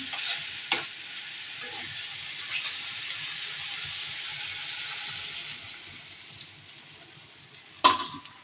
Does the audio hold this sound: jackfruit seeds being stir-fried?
yes